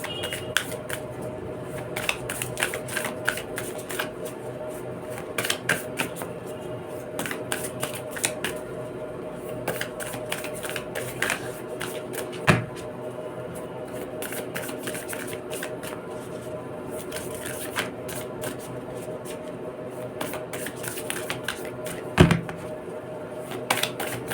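Tarot cards are shuffled in a steady run of soft, papery riffling and light flicks, faint and close, with occasional sharper clicks.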